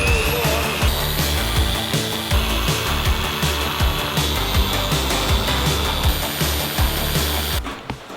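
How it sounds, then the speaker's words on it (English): A 3-inch polisher running on the bonnet of a damaged Mercedes-AMG GLE63 S, a loud, close, continuous whirring hum with rhythmic rubbing pulses, no talking. "I thought I had a 5-inch polisher with me, but I've only got a 3-inch."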